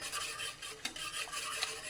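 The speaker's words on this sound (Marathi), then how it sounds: "कंटिन्युअसली आपण स्टर करत राहायचं" Melting jaggery for ragi pudding being stirred in a pot: soft, close scraping and rubbing strokes with occasional light clinks of the spoon, quiet and steady without talk.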